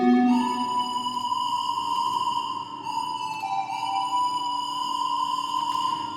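A sine-wave synth lead carries a remix melody played from MIDI, a pure smooth tone sliding between sustained notes with faint overtones, steady and alone for about six seconds.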